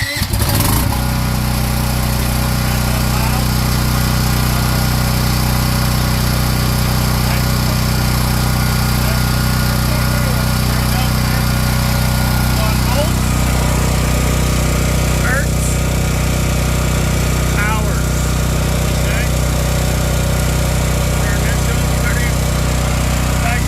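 A Firman T08073 tri-fuel 459cc portable generator runs loud and close, its engine settling into a steady, even drone with a faint rattly texture after a rough start.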